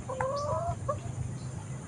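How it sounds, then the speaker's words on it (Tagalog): Chickens being fed rice, short bright clucks and a drawn-out squawk close by in the first second, then quieter scattered clucks over faint background rumble. "Papakain tayo ng mga manok natin."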